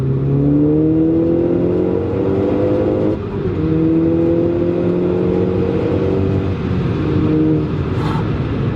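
A VW Golf Mk6 GTI turbo accelerating hard, heard from inside as a loud, continuous engine drone rising in pitch through the gears, with a brief dip at a shift partway through.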